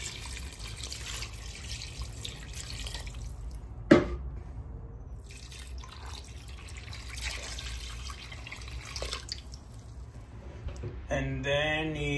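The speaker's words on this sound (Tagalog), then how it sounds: "Lalagyan natin uli ng tubig." Water pours into a pot of beef rib nilaga (beef rib stew with corn and saba banana) during cooking, a steady running wash with one brief sharp knock partway through.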